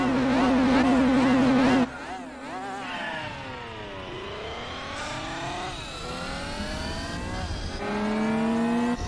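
Race cars in Gran Turismo 4 launch off the starting grid of a World Championship race, engines revving hard and rising through the gears in loud, sweeping pitch climbs with one car's note dominating close by.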